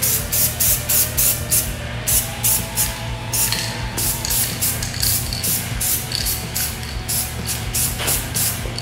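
Short bursts of spray paint hiss out in a rapid, regular rhythm while a light tack coat of black is laid on a motorcycle part, the paint can's hiss close and fairly loud.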